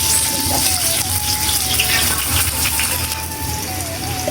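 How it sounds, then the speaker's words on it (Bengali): Fried onions are added to hot white oil in a karahi for a goose kacchi and sizzle, a loud steady rushing hiss close up with a faint tone running through it and no talk. "তেল গরম হয়ে গেছে, আর আমি বেস্তাটা দিয়ে দেবো।"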